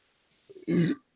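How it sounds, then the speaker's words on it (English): A short, loud, throaty burp follows a chugged drink, preceded by a few small gulping grunts, then a single rough close eructation lasting about a third of a second. "all the after chug burps."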